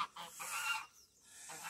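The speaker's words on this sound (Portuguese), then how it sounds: "Olha como que os gansos estão bravos porque a pata tá de patinho." Agitated geese honking and squawking in short, overlapping bursts close by, with a brief pause before the calls pick up again; the geese are guarding a duck with ducklings.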